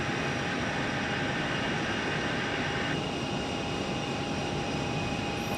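Frontier Airbus A320 from Cincinnati at Phoenix airport, a steady broadband jet roar with a constant high whine, loud and unbroken throughout with no voices.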